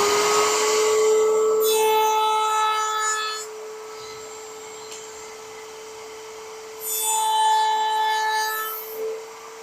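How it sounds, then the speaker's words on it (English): Router table fitted with a 1/8-inch radius roundover bit rounding the ends of wooden hinge pieces, a steady high motor whine with two louder bursts as the bit cuts into the wood, the motor spinning between them. "My next step is to use an 1/8-inch radius roundover bit in the router table to round the ends."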